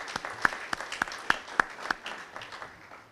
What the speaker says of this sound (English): If you give a big round of applause for all our trustees.